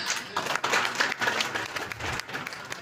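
Audience clapping at an official's visit to a village enterprise in Pemalang, a close, steady patter of many hands with uneven swells throughout.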